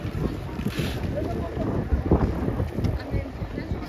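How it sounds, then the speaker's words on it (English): Outdoor wind buffets the microphone with steady low rumbling gusts in Birmingham's Bull Ring, a busy shopping area, with faint voices in the background. "It's a bit windy down, you have to be holding on to my hat."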